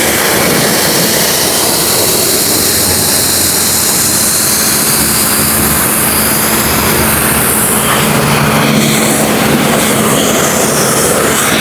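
A commercial pressure washer cleans a dirty floor with a loud, unbroken roar of motor and high-pressure spray, steady and close for the whole stretch.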